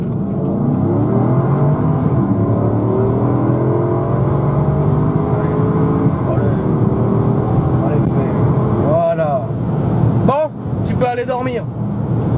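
A Porsche Cayenne Turbo accelerates, its engine a loud steady roar inside the cabin over the whole stretch, with a rising whine and a few louder bursts near the end; people talk over it.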